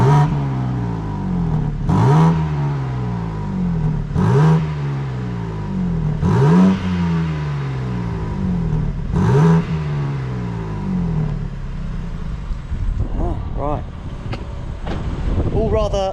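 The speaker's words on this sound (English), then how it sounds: "we're going to go behind the car and see what it sounds like with the OEM sound" BMW M4 F82 with stock OEM exhaust revved from behind the car, five or six loud rising and falling rev blips in a row, then lower idle rumble with some wind noise.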